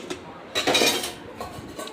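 Dishes and utensils clink and clatter faintly in a home kitchen, a short cluster of metallic knocks in the middle with nobody talking.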